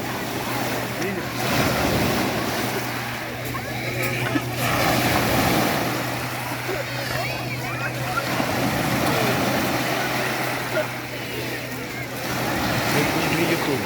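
Sea waves wash against the shore near Lazarevskoye on the Black Sea, a steady surging roar with heavy wind buffeting the microphone and voices speaking in the background.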